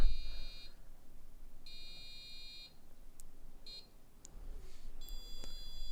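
A passive buzzer sounds a series of high-pitched electronic beeps after being set to a higher tone, around 680. The steady tones come in separated bursts of varying length, loud and close, with no talk.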